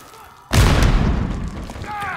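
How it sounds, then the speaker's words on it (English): A grenade goes off in the video game Modern Warfare III, a sudden loud, close boom that rumbles and fades over about a second, with a faint voice before and after it. "Oh, grenade! Get out of the way, man!"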